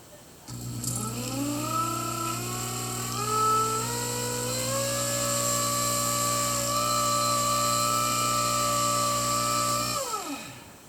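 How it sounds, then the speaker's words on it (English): A buffing wheel on a pedal-controlled motor, used for polishing fossil echinoids, runs while being cleaned with a rock, giving a loud, steady motor whine that climbs in pitch as it spins up, holds for several seconds, then winds down. "And that pretty much cleans up your buffing wheel"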